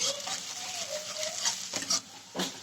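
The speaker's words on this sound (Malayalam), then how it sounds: "അരിഞ്ഞ് വെച്ചിരിക്കുന്ന ഇഞ്ചി അതിലേക്ക് ആഡ് ചെയ്തു അതും ഇങ്ങനെ ചെറുതായിട്ട് ഇളക്കി ഇളക്കി ഇളക്കി" Chopped ginger stirred in a pan, heard as soft, quiet scraping strokes, a few short ones near the end, over a steady background hiss.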